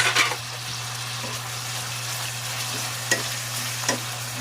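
Pork frying in a pan as tomatoes go in, with a steady sizzle and a few soft stirring clinks, close and continuous with no talk.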